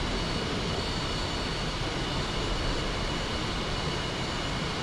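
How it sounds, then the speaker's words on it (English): An F-4 Phantom jet taking off in the DCS World flight simulator, a steady broadband engine roar that holds constant and loud for the few seconds heard, with no voices over it. "Never one to pass up an opportunity of watching a Phantom take off."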